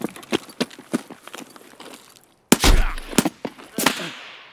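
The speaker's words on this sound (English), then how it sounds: "he slugged me twice in the head with a shotgun" Shotgun blasts in an online shooter game, two loud close booms a second or so apart after a stretch of quick footstep-like clicks, with a further sharp shot near the end.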